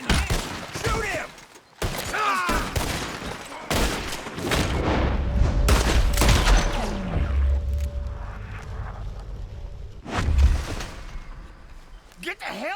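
Gunfire in a Red Dead Redemption 2 shootout, a few loud sharp bangs and booms between shouted voices and game noise, then a rumbling blast near the end.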